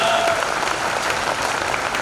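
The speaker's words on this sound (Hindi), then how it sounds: "आपकी शायद गर्व से तालियां उठें" Steady audience applause fills a Hindi kavi sammelan poetry recital hall, a dense even wash of many hands clapping continuously and fairly close, with no talk over it.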